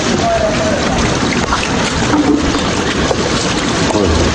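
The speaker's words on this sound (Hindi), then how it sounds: "इसके पास ये चश्मे का पानी आ रहा है" Spring water from a chashma beside a wooden mosque in Kalam, Swat, Pakistan rushes in a loud, steady, close wash that continues unbroken throughout, with some wind noise.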